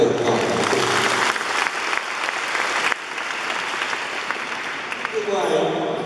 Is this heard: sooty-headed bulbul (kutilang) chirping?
no